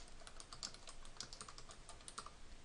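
Steady, quiet clicking of a computer keyboard as a file name is typed, a rapid, even patter of keystrokes with no voices.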